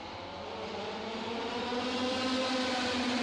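Racing karts at a Karting race start in the WSK Super Master Series prefinal, a steady dense engine whine building slightly in loudness, many engines blended together at a distance.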